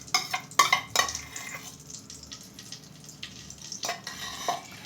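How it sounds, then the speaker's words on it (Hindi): Two spoons of ghee go into a kadhai on a gas stove, ready for roasting edible gum for sugar-free gond laddoo: a few sharp metal spoon clinks against the pan near the start, then a quieter stretch with another clatter of utensils later. "गैस पे हमने एक कढ़ाई चढ़ा दी है और उसमें डालेंगे हम 2 चम्मच घी"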